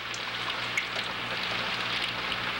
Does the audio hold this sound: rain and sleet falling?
yes